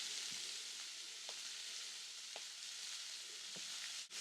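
Chopped onion and slit green chilies sizzle steadily in hot oil as they are stir-fried, giving a soft, continuous hiss with a few faint clinks of the stirring utensil and no talk.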